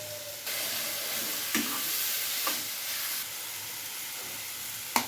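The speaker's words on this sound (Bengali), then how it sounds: "এবার আমি এটা ভালো করে নাড়াচাড়া করে নেব" Soft frying sizzle of soybean kosha curry with a hissing background, broken by a few scraping strokes of a spoon stirring in a pan.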